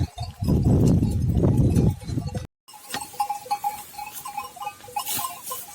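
A flock of sheep grazing in open pasture at night, with a loud close rustling burst at first, then a short pause and faint, scattered bleats over a quiet background.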